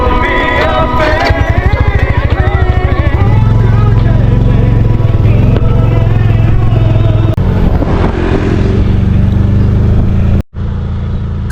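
A motorcycle engine runs loud and close while riding a misty mountain road in northern Vietnam, a steady rumbling drone with shifting revs and a brief cut near the end.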